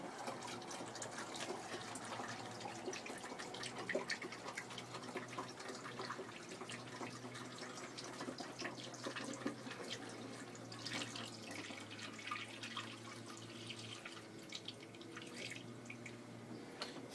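Orange juice is poured from a carton into a nearly one-litre bottle for homemade hooch, a faint, steady trickle and gurgle of liquid that runs quietly for a long stretch.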